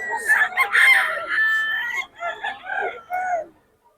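A loud rooster crows nearby, a long strained call followed by a shorter broken one, with no other sounds around it.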